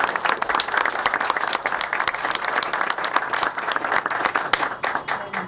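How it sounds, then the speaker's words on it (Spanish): A crowd at a political event for a Boca Juniors club in Casa Grande claps loudly and continuously, with individual sharp hand claps standing out in a busy, sustained ovation. "Un fuerte aplauso"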